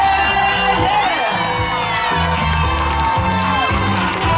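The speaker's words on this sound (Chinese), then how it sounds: "给自己掌声" An audience at an outdoor concert during a hot-air balloon carnival in Luye, Taitung, cheers and shouts loudly and without a break, with music playing underneath.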